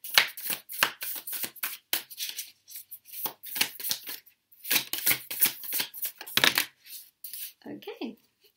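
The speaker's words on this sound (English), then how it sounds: "So let's shuffle and see their thoughts towards you." Tarot cards being shuffled by hand: a quick series of papery riffles and slaps in bursts, close and crisp, ending with a brief muffled vocal murmur.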